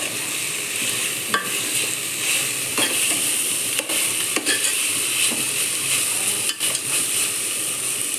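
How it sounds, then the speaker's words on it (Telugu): Masala for chicken curry fries in a pan with a steady, close sizzle, broken by occasional scraping and clinking of a stirring spoon. "దీన్ని దోరగా వేయించుకోవాలి పచ్చివాసన పోయేదాకా."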